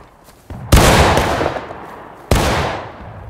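Gunfire in a video game battle: two loud, sharp shots about a second and a half apart, each ringing out into a long, fading echo over a low background rumble.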